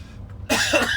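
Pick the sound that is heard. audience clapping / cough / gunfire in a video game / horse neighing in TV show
cough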